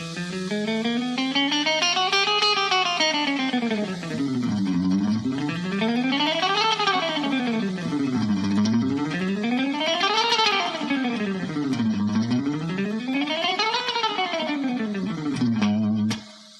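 Fast, continuous electric guitar runs sweep up and down in repeating waves, a rapid shred pattern played cleanly and steadily throughout.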